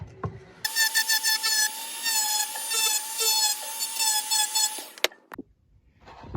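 An abrasive tool grinds into an axe being upgraded, a steady whining cut with rhythmic tonal harmonics that runs for several seconds, then stops abruptly with a few short knocks near the end.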